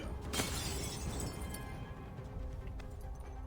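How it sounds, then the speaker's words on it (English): Glass shatters in the video game Assassin's Creed 3, a bright crash followed by a hissing wash of debris and game ambience that stays fairly quiet throughout. "Break the glass."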